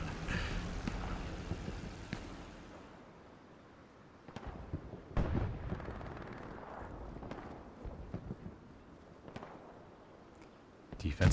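Long-range gunfire in the console version of Hell Let Loose, scattered sharp cracks and thuds at irregular intervals, some isolated and some in quick clusters, set against a low battlefield rumble.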